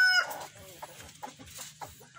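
Laying hens cluck in short, uneven bursts close by in a range coop, with a louder squawk at the start and softer clucks following, no talk over them.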